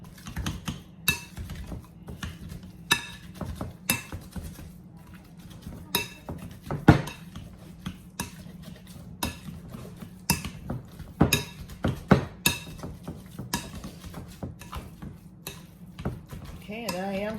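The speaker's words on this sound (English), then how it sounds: "Now I'm gonna go and start mashing. And I love this masher," An old-school hand masher works through cooked sweet potatoes for a Southern sweet potato pie, giving scattered sharp clicks and knocks against a pot or bowl with soft squishing between them, close and fairly quiet.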